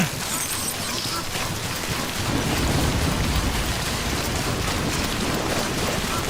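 Timefall rain in the game Death Stranding hisses steadily with low thunder rumbling beneath, swelling a little louder partway through and holding as a continuous downpour.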